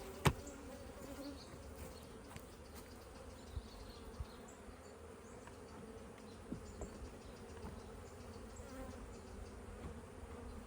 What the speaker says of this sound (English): Look at all these bees hanging out over here.